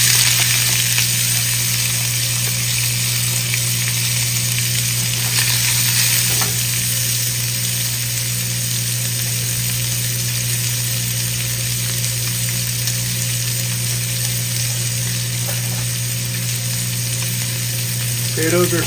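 Spam and onions fry in hot oil in a pan, giving a loud, dense, continuous sizzle with crackling that holds steady throughout, close up with no talking.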